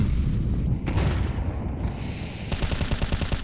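Grenade and incendiary blasts in Counter-Strike during a competitive match, a dense run of loud booms and crackling bursts that sharpen into rapid, repeated impacts near the end.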